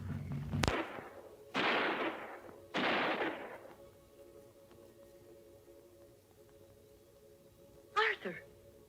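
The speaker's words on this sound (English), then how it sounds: "Those were gunshots." Three loud, sharp gunshots crack in quick succession with reverberant tails in a 1974 film, followed after a pause by a quieter, lingering hum and a brief further burst of noise.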